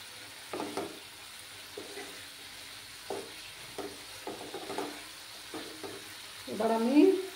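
Spice paste with green chillies frying in oil in a pan, with a steady soft sizzle broken by several distinct scraping stirs and a louder clattering stir at the end, close and with no voices.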